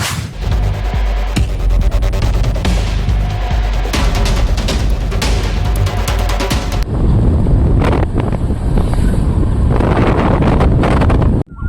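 Strong wind buffets the microphone outdoors, loud rumbling gusts with sharp crackling bursts that continue unbroken for the whole stretch, shifting in texture midway.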